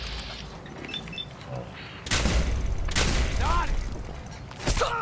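Plasma weapon fire in Fallout 4 gameplay, several sharp loud bursts with zapping, sweeping tails that stand out over game ambience and low murmuring.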